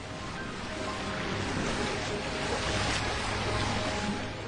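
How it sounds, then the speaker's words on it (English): Rushing, roaring water fills a Roblox mine scene, a steady broadband wash of surf-like noise holding at an even level throughout, with no voices over it. "And the water roared around him."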